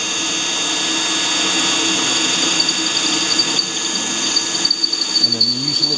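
A drill bores slowly through the thick metal of a tractor bucket, a steady high whine with grinding bite, while someone talks briefly near the end.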